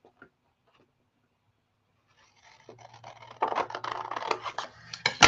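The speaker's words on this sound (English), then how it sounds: "let's do it with the scissors" Scissors cut through a craft card with a run of crisp snipping and scraping strokes that build after a quiet start, fairly close.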